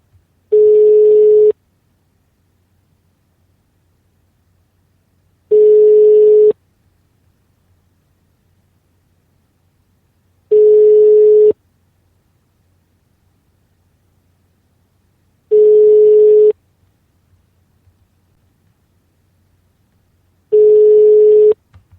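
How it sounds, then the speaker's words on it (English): A telephone ringing tone repeats five times, evenly spaced about five seconds apart, each steady ring lasting about a second against near silence. "Hearing that ringing"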